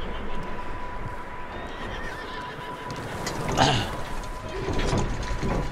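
A horse in a barn in Red Dead Redemption 2 lets out a loud whinny midway, over low ambient rumble and a few hoof shuffles, with a second fainter call near the end.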